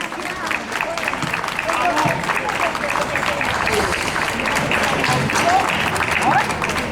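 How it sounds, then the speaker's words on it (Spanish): An indoor audience at a popular tribute event applauds steadily for a performer, dense sustained clapping throughout with a few voices mixed in. "Otro aplauso para Nuria."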